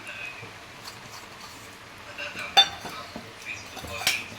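Palm fritter batter with salt and milk powder being mixed in a bowl, soft scraping with several light clinks of a utensil against the dish, one louder clink standing out.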